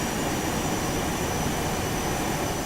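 Boeing 737-200 jet engines in the X-Plane 11 flight simulator give a steady, loud broadband roar with a faint high whine, continuous and unbroken, with no voices.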